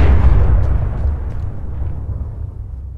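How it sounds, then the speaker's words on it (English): A car blows up in Fallout 4 with a loud, deep boom right at the start. The low rumble then decays over a few seconds, with no voices. "Cars explode. Let's just set them off."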